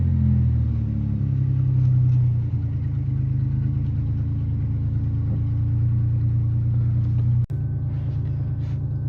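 A 1987 Pontiac Fiero with clutch trouble rolls down the block, its engine a steady low rumble heard from inside the car, close and fairly loud, with a brief dropout near the end.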